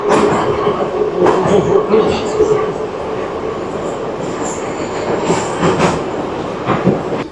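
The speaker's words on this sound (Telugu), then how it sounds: "చాలా ఫాస్ట్గా వెళ్తుంది. ఇది మెట్రో పరిస్థితి." A metro train runs fast on its rails, its loud, continuous rumble and rolling wheel noise holding close and steady, with brief squeals and clatter swelling now and then.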